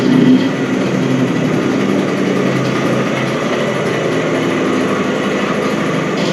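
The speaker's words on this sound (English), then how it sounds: "This time it is running fine with the choke in, but it's starting to race." A Vespa scooter engine idles at close range, a steady buzzing putter that holds evenly from start to finish.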